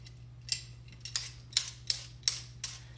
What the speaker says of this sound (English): Just bear with me as I peel and chop my veggies.